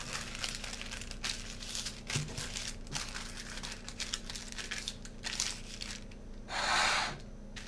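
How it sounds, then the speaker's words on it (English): Greaseproof paper being folded into a triangle and folded again, crisp crinkling and rustling in short uneven bursts, close and fairly quiet, with a longer scrunch toward the end. "Then fold the paper into a triangle and then again into a smaller triangle."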